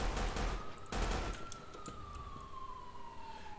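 A GTA 5 police siren from a replacement siren pack wails in a long tone that slowly falls in pitch, starting with a burst of rapid noisy crackle before the steady siren continues alone at moderate volume.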